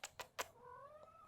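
A house cat meows twice in short, clear calls, then gives a longer rising, wavering cry, close to the listener in an otherwise quiet indoor room.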